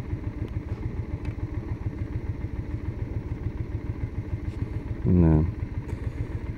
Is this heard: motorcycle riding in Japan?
yes